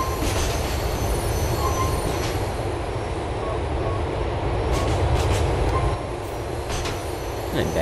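Train rolling along rails in Grand Theft Auto IV, on the LTA Rail Algonquin Outer Line toward Broker, heard close up as a steady, loud rumble and clatter with brief wheel squeals throughout.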